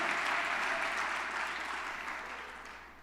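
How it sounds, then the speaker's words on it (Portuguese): A church congregation applauds together during a Friday worship service, a dense, steady wash of clapping that fades gradually over a few seconds with no voices on top. "Aplauda o Senhor, Ele é Rei."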